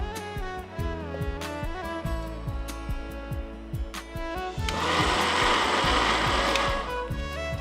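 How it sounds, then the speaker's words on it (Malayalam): An electric mixer grinder blends grated coconut with four green chillies, cumin, curry leaves and turmeric for an Onam sadhya dish; its loud, steady whirring begins about halfway through over continuous background music. "ഒരു തേങ്ങ ചിരകിയത്, 4 പച്ചമുളക്, ചെറിയ ജീരകം, അല്പം വേപ്പില, അല്പം മഞ്ഞൾപ്പൊടി ചേർത്ത് ഈ തേങ്ങ നമുക്ക് മിക്സിയിൽ ഒതുക്കിയെടുക്കാം"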